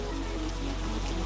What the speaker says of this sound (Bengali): এরপর একটানা বৃষ্টি হতে লাগলো।